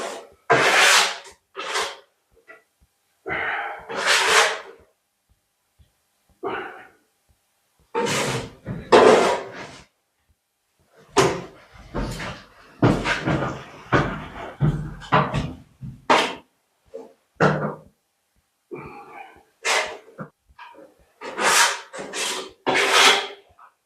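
Big wads of old drywall adhesive are scraped and pulled off a wall in a series of loud rasping tears and rubs, coming in irregular bursts with short quiet gaps between them.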